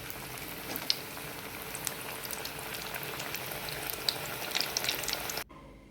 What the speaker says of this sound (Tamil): இந்த அளவு போட்டு எண்ணெயில் ஃப்ரை பண்ணிக்கலாம்